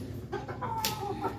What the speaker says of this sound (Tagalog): May makulit ako manok dito guys.